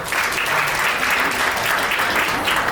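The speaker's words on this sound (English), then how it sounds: "Clap if you're Catholic." A comedy club audience at Carolines on Broadway claps steadily and loudly for nearly three seconds, a dense continuous patter with no pauses.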